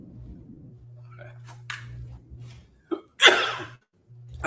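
A single sharp sneeze bursts out near the end of a live stream over a faint electrical hum, loud and close after a quiet stretch.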